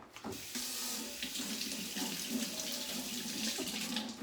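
A lemon is rinsed under a running kitchen tap, with a steady broadband rush of water hitting the fruit and sink throughout, near and fairly loud, with no talk.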